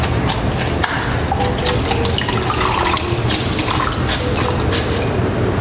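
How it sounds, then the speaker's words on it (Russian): A steady rush of spraying water hisses continuously and loudly as a car is wetted down, with splashing and dripping mixed in, close by and without talk. "смачиваем автомобиль водой."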